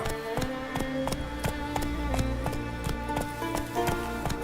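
A horse gallops in The Witcher 3: Wild Hunt, with a fast, even run of hoofbeats over a steady game soundscape, a tonal music bed humming beneath.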